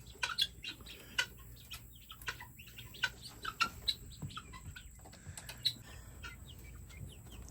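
Guinea fowl and other poultry in a pen with quail nearby, giving scattered short clucks and chirps over a steady low background hum, with no talking.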